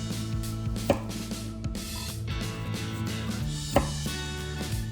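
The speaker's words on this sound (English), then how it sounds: "Next, sweet potato. Round slice 1 cm width." A knife slices a sweet potato into round 1 cm slices for tempura, making two distinct, crisp cuts against the board about three seconds apart over a faint background hum.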